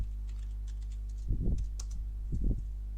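Computer keyboard keys clatter in two short bursts of typing, soft and close, over a low steady hum.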